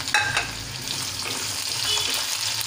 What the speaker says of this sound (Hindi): अब आलू को भी प्याज के साथ में डाल देंगे